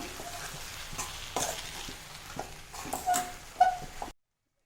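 Avial in a pan as coconut oil is poured in and mixed, with soft stirring scrapes and light sizzle building to a few louder clinks before cutting to silence.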